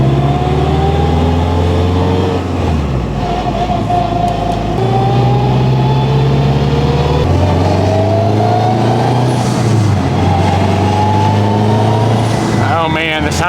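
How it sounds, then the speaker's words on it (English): A modified Honda with straight-cut first-to-fourth and transfer gears drives along, its loud gear whine rising in pitch and resetting with each shift over a droning engine, with voices talking at times. "The transfer gears are also straight cut, which is amplifying the sound of the straight cut 1 through 4."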